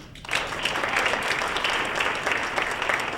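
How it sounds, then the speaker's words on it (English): Audience at an award dinner breaking into applause, a dense sustained wash of clapping from many hands that starts abruptly and holds steady, filling the room. "Let's give him a big hand."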